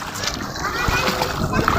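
Feet wading through a shallow river, with repeated splashes and sloshing water close by while people talk and call out over it.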